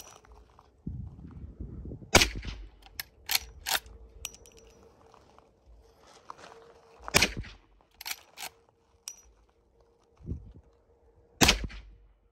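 Several loud, sharp gunshots from a .44 Magnum revolver, fired singly with irregular gaps between reports, plus a few quieter clicks and handling sounds; no talking.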